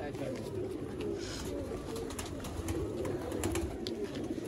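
Red-eyed A-class pigeons from the Sialkot border area coo in low, continuous throaty murmurs, close and steady, with someone talking over them.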